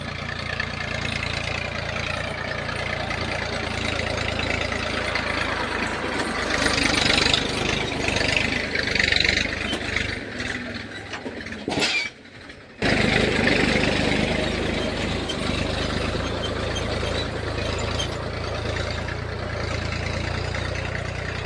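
A tractor idles on a farm during sowing, a steady mid-pitched chugging drone that swells slightly midway and cuts out briefly before resuming. No one speaks.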